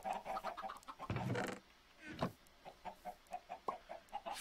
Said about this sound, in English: Oh, this is a chicken coop.